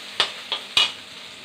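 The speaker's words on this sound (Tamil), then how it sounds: "இது நல்லா வெங்காயம் நல்லா வதங்கணும்" Onions sautéing in a pan for a vendakkai coconut poriyal, with a soft, steady sizzle and three sharp scrapes of a spatula stirring them, close and fairly quiet.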